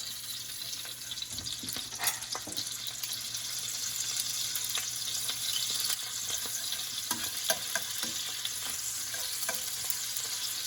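Squeezed garlic fries and sizzles in a pan turned down to low heat, a steady crackling hiss with occasional sharper pops and a faint hum underneath, no voices.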